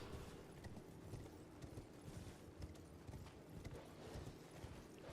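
Steady clip-clop of horse hooves from riding on horseback through the Elden Ring video game world, a continuous rhythmic trot at moderate level over a low background bed, no talking.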